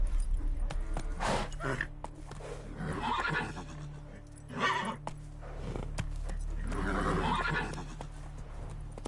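A horse in the video game The Witcher 3 gives loud whinnies and snorts, with hooves clopping beneath and a low hum running throughout.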